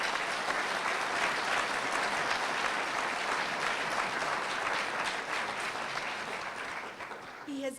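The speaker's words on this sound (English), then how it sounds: "please let us have another round of applause to the most honorable" A large audience applauds the Most Honorable P.J. Patterson with sustained, dense clapping that holds steady for several seconds, then starts to thin slightly near the end.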